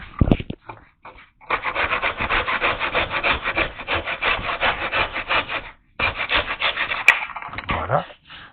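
Back saw cutting through wood pegs in a woodworking joint, rapid rhythmic strokes close up, with a brief pause before the sawing resumes and ends.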